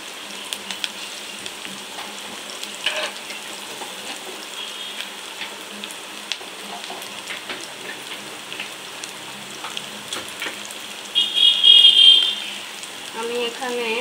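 Fried onion and spices cook in a pan for a shrimp and ridge gourd curry, making a low, steady sizzle with scattered small crackles and a louder, brief surge of frying near the end.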